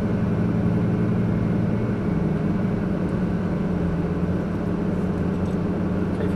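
A Lamborghini Gallardo creeping forward on light throttle produces a low, steady engine rumble and drone, even in level across the stretch, with no clear revving peaks.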